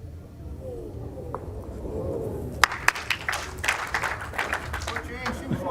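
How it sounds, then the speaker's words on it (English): A brief smattering of polite clapping rises from the crowd at an indoor bowls championship, a few scattered hand claps under a commentator's talk and general hall murmur. "A smattering of applause for something that's 7 inches away from the jack"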